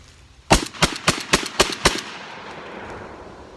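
A Remington 1100 gas-operated semi-automatic shotgun fires six loud, sharp blasts in quick, fairly even succession, each with a short echoing tail that fades into outdoor quiet.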